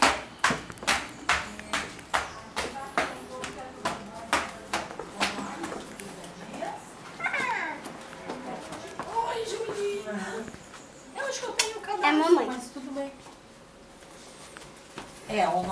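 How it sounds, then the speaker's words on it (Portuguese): Flip-flop slippers slap in a quick, irregular run of sharp footsteps that fade after a few seconds, followed by people talking indoors. "Segue o barulho do chinelo."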